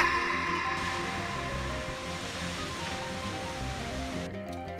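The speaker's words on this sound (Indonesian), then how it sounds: "kita akan bertemu dengan air terjun" A waterfall on the trail up Mount Rinjani rushes in a steady, dense roar of falling water from fairly close, with no voices over it.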